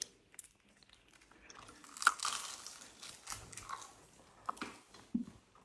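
Crusty homemade sourdough bread bitten and chewed up close, with a sharp crunch on the first bite followed by several softer crunchy chews.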